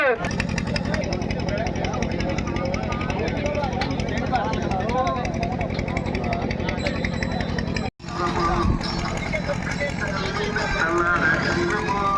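Hallikar bullocks pull carts at a rural race, their running hooves and rumbling wheels buried under dense, loud crowd shouting, with a brief cut near the end.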